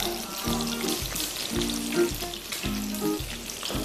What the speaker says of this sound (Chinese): 炸至定型再翻过来。